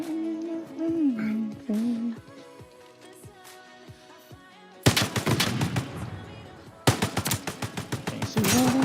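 Rapid automatic gunfire in a video game crackles loudly in two long bursts of rhythmic shots, after a quieter stretch of tonal music and game sounds.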